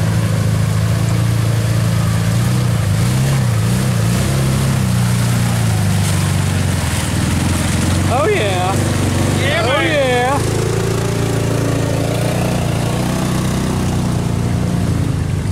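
A RZR off-road side-by-side on tractor tires revs its engine while driving through deep mud, a loud, sustained droning roar that rises and falls, with excited shouting from nearby voices over the top.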